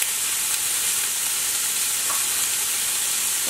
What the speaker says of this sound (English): I'm gonna add in some of the green onion and saute the ham